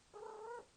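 A pet cat gives a single short, close meow, faint and alone against a quiet background.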